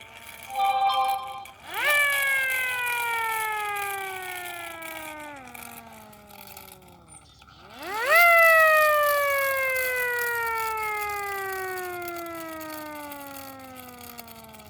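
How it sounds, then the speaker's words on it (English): Mechanical outdoor siren winding up to a loud wail and slowly falling in pitch, then a second wind-up and long descending run-down, heard nearby from the front. "For this siren specifically, oh yeah, it's very quiet right here."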